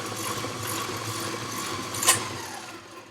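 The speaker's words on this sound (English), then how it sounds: "I'm going up to about 5 on the mixer." An electric stand mixer whirs steadily at medium speed, setting five, while mixing cut-out sugar cookie dough, a continuous mechanical hum with a brief clack near the end.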